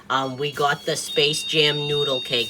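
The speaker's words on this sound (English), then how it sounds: "That's just the alarm on his door." A steady high-pitched electronic tone from a door alarm on a child's bedroom door runs faintly beneath close, continuous talking.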